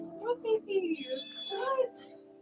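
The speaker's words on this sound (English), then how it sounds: "You guys are going to hear her meows popping up." A cat meows repeatedly after climbing onto a desk, giving several short, close cries in an uneven rhythm against a quiet indoor background.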